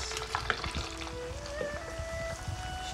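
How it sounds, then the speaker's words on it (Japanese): Eggplant deep-frying in oil for mapo eggplant, a steady crackling sizzle with bubbling and occasional stirring clinks, close and continuous with no talk. "油で素揚げします。 一旦引き上げて 再度素揚げします。"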